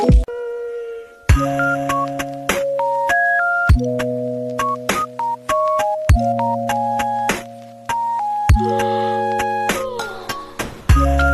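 A notification bell sound effect chimes over and over in bright, sustained ding-dong tones, loud and layered, forming a short repeating melodic pattern with no talk.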